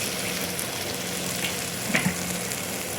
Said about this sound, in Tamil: இந்த மசாலா வெந்ததுக்கப்புறம் நம்ம முட்டையை அடித்து ஊற்றலாம்